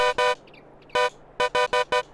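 Truck horn of an AW 362 Cabover Truck mod in Farming Simulator 22: loud, close horn blasts, two quick ones, a pause, then one more and a rapid run of four short honks.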